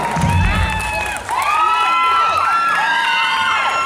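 Guests at a birthday party cheer, whoop and clap for a mother after a song, loud close crowd noise with excited voices and children shouting layered over the applause.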